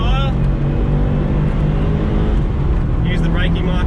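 A Subaru WRX STI accelerates hard out of a corner on a race track, its engine a loud, continuous, rising roar heard from inside the car, with a voice speaking over it.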